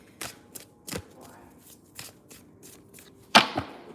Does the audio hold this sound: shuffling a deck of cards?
yes